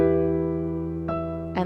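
A piano sustains a held chord in an easy improvisation exercise, with octaves and triads ringing steadily, then two soft new strikes near the end, played alone.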